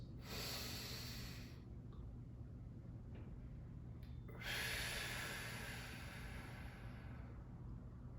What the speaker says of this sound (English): I like to do something called box breathing, where I breathe in for 2 seconds, I hold for 2 seconds, and then I exhale for 2 seconds